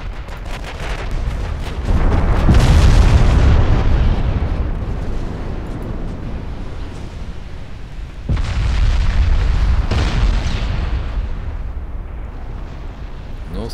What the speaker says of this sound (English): Oh, your 7-inch guns are actually doing a lot of damage.